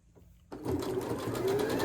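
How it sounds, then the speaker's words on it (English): A sewing machine stitching binding onto a quilt starts abruptly after a brief pause and then runs at a steady, fast, close mechanical whir, with no talking over it. "line it up, and start sewing again"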